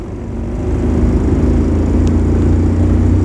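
Motorbike riding along a scenic road between Agartala and Belonia, a steady close engine drone with rushing wind and road rumble that builds over the first half-second, then holds level.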